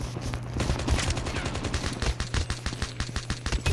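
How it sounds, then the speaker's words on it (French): Rapid small-pistol gunfire in the mobile shooter Call of Duty Mobile, a steady run of sharp close shots with brief pauses, over a low game hum and no talk. "Je vais essayer de jouer au petit flingue."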